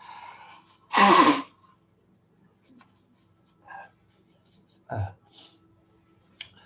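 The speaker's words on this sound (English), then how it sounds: "excuse me, I do need to sneeze" A single sharp, loud sneeze bursts out near the mic, followed by quiet room tone and a few faint small noises.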